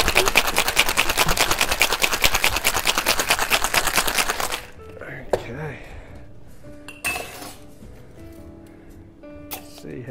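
A cocktail shaker holding fig jam and Angostura bitters is shaken hard for about four and a half seconds, a loud rapid rhythmic rattle of ice, followed by quieter clinks and handling noises.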